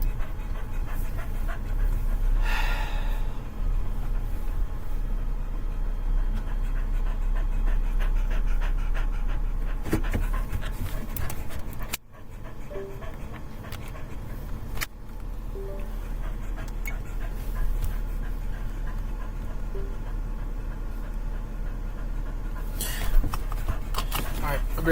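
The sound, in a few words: dog panting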